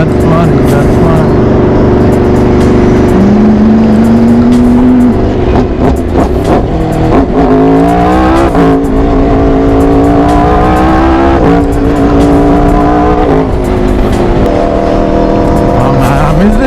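An Aprilia RSV4 sport motorcycle engine runs steadily while riding, its loud, continuous drone rising and falling in pitch through corners, with a voice talking over it much of the time.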